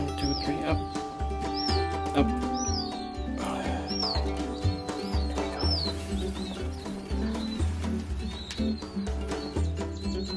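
Newly hatched button quail chicks in a brooder give repeated high thin peeping chirps, close and fairly faint over a low background rumble.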